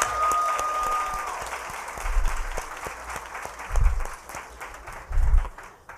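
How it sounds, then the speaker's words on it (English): An audience applauds business owners at a women-owned business event, with dense clapping that rises and falls, several low thumps, and faint voices mixed in. "Let's give them another round of applause."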